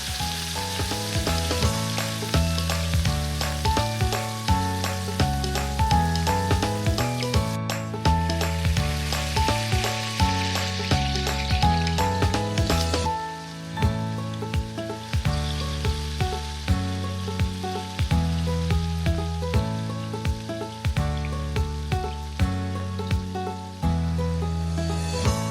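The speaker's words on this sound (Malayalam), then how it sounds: "ഇതിലേക്ക് ഉള്ളി, പച്ചമുളക്, ഇഞ്ചി, വെളുത്തുള്ളി എന്നിവ ചേർത്ത് നന്നായി വഴറ്റുക" Onion, green chili, ginger and garlic sauté with coconut in a hot pan for a Kerala beef fry, a loud, steady crackling sizzle that runs on alone, easing slightly partway through.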